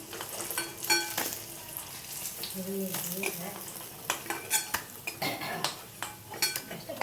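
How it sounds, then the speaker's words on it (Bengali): Capsicum and tomato stuffed pakoras frying in hot oil, a steady sizzle with scattered clinks and scrapes of a metal spoon against the pan, fairly close with no talking. "দেখো এইভাবে আমি সবগুলো ভেজে নিয়ে তোমার দিকে আবার শেয়ার করছি।"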